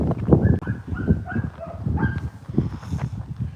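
A dog barks and yips at another dog in short bursts during a scuffle, with whiny, whimpering tones mixed in, fairly close and fairly loud throughout.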